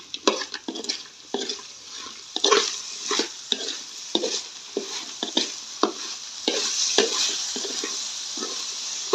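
Beetles frying in oil in a pan, with repeated stirring scrapes and clatters over a continuous sizzle, close and fairly loud, in irregular bursts.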